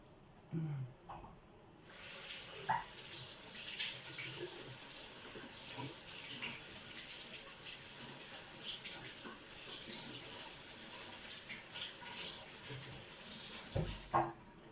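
Tap water runs steadily under a faucet in a home kitchen, rinsing food with a continuous close hiss and splash that starts abruptly after a brief quiet moment and stops near the end, with a few soft handling knocks.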